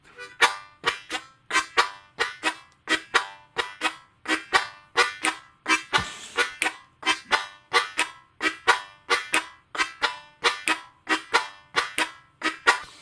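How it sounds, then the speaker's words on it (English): Harmonica playing a hard shuffle rhythm of sharp, staccato chords on holes 1, 2 and 3, a steady run of short, punchy bursts repeating evenly and loud throughout with no other sounds. "On holes 1, 2, and 3 of the harmonica, sounds like this."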